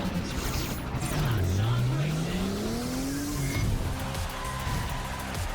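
Racing cars in the Hot Shots Racing trailer roar past with a constant engine drone, one motor's pitch dipping and then climbing steadily amid squealing tires and busy mechanical noise.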